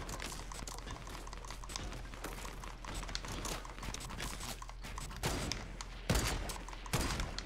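Rapid gunfire from a Fortnite match, dense crackling shots peppering in irregular bursts with a few sharper loud cracks near the end, steady background game noise underneath.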